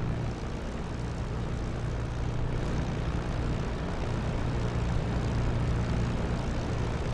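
A P-51 Mustang's piston engine idles on the ground in the DCS World flight simulator, a steady deep propeller drone with a low throbbing hum that holds at an even, close level throughout and has no voices over it.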